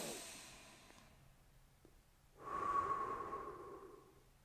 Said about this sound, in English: Take another few breaths in through the nose and out through the mouth.